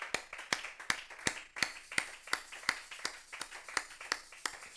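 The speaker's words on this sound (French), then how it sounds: "Est-ce que nous pouvons acclamer pour lui?" A church congregation claps their hands in applause during an evening service, a steady rhythmic run of sharp, fairly close claps with no voices over them.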